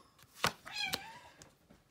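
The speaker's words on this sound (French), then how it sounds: "j'ai mes chats qui se bagarrent" Domestic cats fighting let out a sharp meow-like yowl amid quick scuffling thumps and swipes, fairly faint and close, in a brief tussle.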